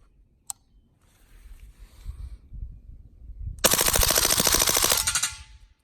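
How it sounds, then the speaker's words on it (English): A KUSA KP-9 fires a rapid full-auto burst through a suppressor with 147-grain ammunition, a dense, loud, fast stream of muffled shots lasting under two seconds, preceded by a single click and faint handling noise. "Wow, it's brutal on full auto with the 147s and the suppressor."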